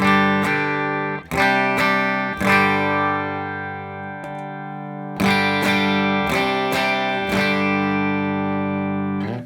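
A clean Telecaster played through a Morgan RCA 35 amp with no pedal, strummed chords ringing out with a few pauses between strums, clear and close with natural sustain.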